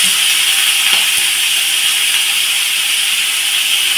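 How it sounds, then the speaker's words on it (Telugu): Raw prawns fry in a pan until their water cooks off, giving a loud, continuous steamy sizzle and hiss that stays steady and close for the whole stretch. "ఈ పచ్చి రొయ్యలు ఇప్పుడు ఇవి బాగా వేపుకోవాలి"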